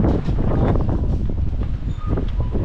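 Steady gusty wind buffets the microphone with a low, rough rumble throughout, loud and close, with no talking.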